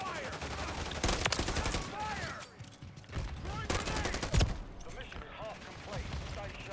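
Call of Duty gameplay carries rapid bursts of gunfire and scattered single shots at mid distance, over game sound effects, while a player talks throughout.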